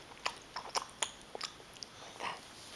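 Hard lollipop crunched between teeth, a run of sharp, close cracking bites in an irregular rhythm, fairly quiet and alone with no talking.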